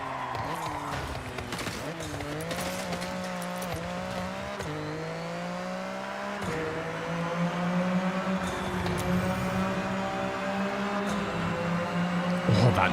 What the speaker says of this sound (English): This is the best sounding car in the game, for some reason.